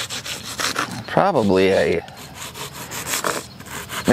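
Short rasping strokes of a Sawzall blade trim excess material from a wooden target, close and uneven, broken by a brief squeaky scrape partway through.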